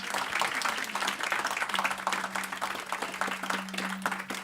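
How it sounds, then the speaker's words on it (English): An audience at an education summit applauds four panelists at the close of a session on teachers' changing roles, continuous clapping with a steady low hum beneath it. "If we have a round of applause for our 4 esteemed panelists"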